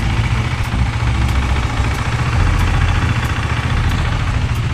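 A KTM 390 Duke motorcycle idles steadily with a modified muffler that was left in place rather than removed, giving a loud, continuous low rumble close by with faint regular ticks and no talking.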